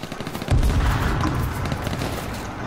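Gunfire in the survival shooter H1Z1, with a few quick soft shots at the start and then a loud burst of rapid fire that keeps rattling at a steady, fairly close level to the end.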